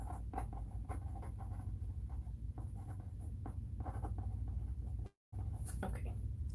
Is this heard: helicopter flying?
no